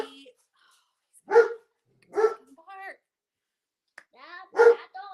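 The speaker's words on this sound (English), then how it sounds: "that dog is so weird." An old dog barks in three or four sharp, separate woofs spaced about a second apart, fairly close and loud, with quiet gaps between them.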